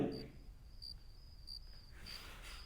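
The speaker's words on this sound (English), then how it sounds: "Those crickets are obviously not a transaction sound." Crickets chirp at a moderate distance in short, regularly repeating bursts, a thin steady pulsing over a faint low background hum.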